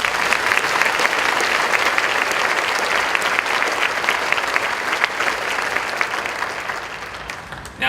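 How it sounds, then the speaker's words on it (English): Conference audience applauding speakers at a quality symposium, loud, dense clapping that holds steady and then gradually thins toward the end. "If we can give them a round of applause."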